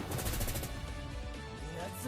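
Cannon fire booms in the mobile game One Punch Man The Strongest, heavy blasting bursts densest at the start and then a rumbling battle din, with someone talking over it.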